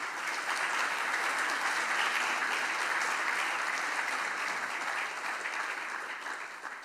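Conference audience at JuliaCon 2025 applauding a speaker's introduction, dense sustained clapping from a large room that fades slightly toward the end, no voices over it.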